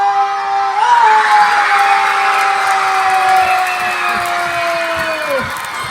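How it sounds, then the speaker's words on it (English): A school assembly audience claps and cheers in a broad, sustained roar. A steady electronic tone runs underneath and dips at the end. "Everyone, let's clap for him."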